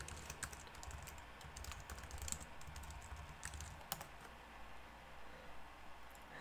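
Someone types account sign-in details on a computer keyboard, giving a quiet, irregular run of soft key taps and clicks over faint room hiss, with a couple of sharper strokes standing out.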